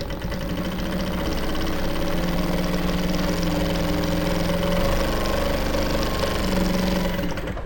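Sewing machine stitching a seam on an Ankara top, a loud, steady motor drone with a rhythmic mechanical thrum running throughout the whole stretch, no talking.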